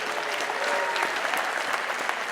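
Dense, sustained audience applause at a county State of the County address, with many hands clapping evenly and a few sharper claps popping out near the end.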